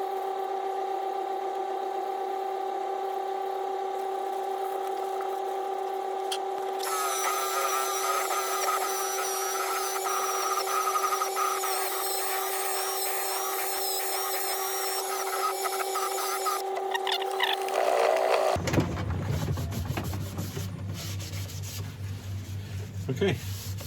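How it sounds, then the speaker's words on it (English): A sander buffs a linseed oil and shellac finish on an olive ash woodturning, giving a steady high whine that runs for most of the span before giving way to a lower, rougher motor hum. "apply it to each surface and then buff it with a sander"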